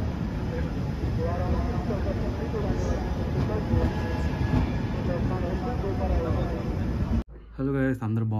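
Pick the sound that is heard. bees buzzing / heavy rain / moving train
moving train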